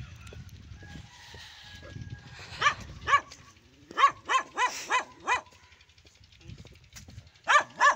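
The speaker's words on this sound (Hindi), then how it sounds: "कुत्ते का काम होता भौंकना, कुत्ता जरा मेरे पीछे लग गया" A village dog in Punjab, Pakistan barks close by in several sharp bursts, some in quick runs of four or five, with short quiet gaps and faint background murmur.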